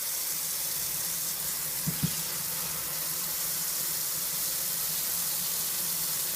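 Tap water running into the tub of a Useful UH-CW204 mini portable washing machine, a steady close hiss of spray with a brief pair of soft knocks.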